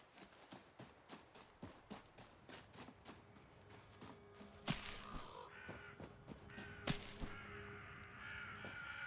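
Crows caw repeatedly in the video game REKA, a steady run of sharp rhythmic calls giving way to louder, scattered caws over a constant ambient bed, no speech.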